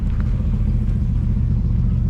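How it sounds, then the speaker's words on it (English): Porsches, including RS models, roll into a Sunday morning Porsche Marque Day car show, a steady low engine rumble close by with no break and no voices. "So, 2 more Porsches coming over there."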